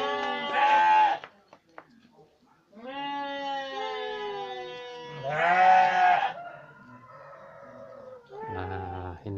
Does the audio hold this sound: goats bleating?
yes